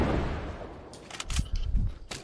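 Rapid gunfire from Fortnite, bursts of sharp shots and impacts arriving in quick succession after a rumbling lead-in, fairly loud with no voices.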